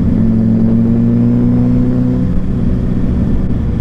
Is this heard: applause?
no